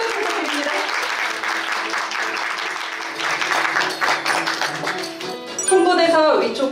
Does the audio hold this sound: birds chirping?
no